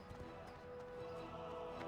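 Hooves of a slow horse mount clip-clop in World of Warcraft, a faint, quick run of hoofbeats in a steady rhythm beneath quiet game ambience.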